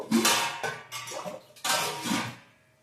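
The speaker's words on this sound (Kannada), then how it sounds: "ಇನ್ನು ಸ್ವಲ್ಪ ನೀರು ಹಾಕ್ತಾ ಇದ್ದೀನಿ." Water splashes and gushes into a metal pressure cooker in several uneven bursts, close by, with faint clinks of the vessel between pours.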